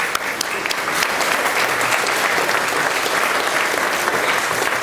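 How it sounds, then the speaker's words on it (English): An audience at a memorial gathering at a creative centre applauds for Holly, a steady, full wash of clapping from many people that holds evenly for several seconds without any talk. "I'm going to give Holly a clap on Ian's behalf"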